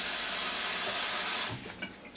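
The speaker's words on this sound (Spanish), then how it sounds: "Aquí a la miga de pan le vamos a poner un poquito de agua" Tap water runs steadily and hissing onto breadcrumbs in a bowl in a home kitchen, then stops abruptly partway through, leaving faint clinks and handling sounds; no talking.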